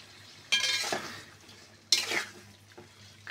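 Tomato masala with salt stirred and fried in a pan, two distinct scraping stirs of a spoon against the pan over a faint low sizzle, close and fairly quiet.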